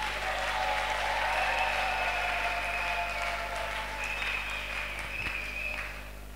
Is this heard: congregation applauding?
yes